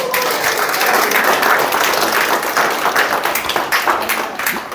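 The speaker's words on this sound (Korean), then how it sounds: "박수 한번 주시고." Applause from an audience at a relationship and communication class, a steady burst of clapping that stays loud throughout and eases slightly toward the end.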